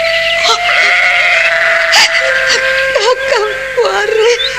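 Goats bleat in a goat pen, several wavering, drawn-out cries overlapping close by and loud, over a tonal musical background and a voice speaking.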